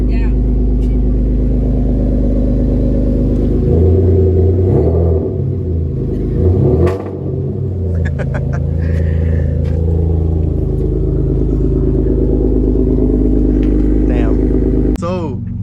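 A Nissan Maxima swapped to a 6-speed manual revs hard, its engine note rising and falling in loud, rumbling surges close up, with a brief dip midway before climbing again.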